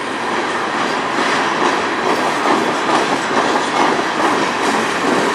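A CN locomotive hauls a passing train on the Strathroy Subdivision, loud and close, with a continuous rumble and rhythmic wheel clatter over the rails.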